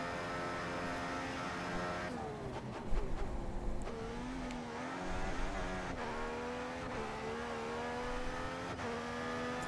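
An F1 race car in a racing video game screams at full revs, a loud sustained high-pitched engine whine shifting in pitch with a brief rougher burst, no talking.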